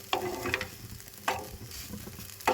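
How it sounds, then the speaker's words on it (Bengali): Egg, potato and onion tossed with sugar frying in a pan, a soft sizzle under three distinct scraping stirs of a spatula against the pan, close and fairly quiet, no voices. "এর সাথে আমি ডিম আলু আর পেঁয়াজের সাথে চিনিটা দিয়ে আমি বেশিক্ষণ ভাজবো না, 2 মিনিটের মতো ভেজে নেব।"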